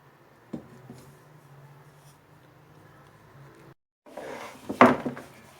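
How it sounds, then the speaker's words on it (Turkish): Dough for kömbe being rolled out, soft repeated rubbing and rolling strokes on a board with a few light knocks, then a short pause before louder rolling and a sharp clack near the end. "Şimdi tekrar hamurumu açmaya başlayacağım diğer kat için."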